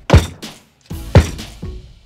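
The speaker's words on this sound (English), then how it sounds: "I want you to bang it as hard as you can" A hammer strikes a punch to mark rivet holes, two hard metallic whacks about a second apart, each followed by a lighter secondary tap, loud and close with no talking.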